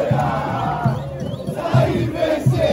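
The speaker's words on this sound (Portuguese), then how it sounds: "E a torcida do Palmeiras fazendo show aqui na frente do CT!" Palmeiras football fans chant together outside the club's training center, a loud, dense crowd with rhythmic swells of voices.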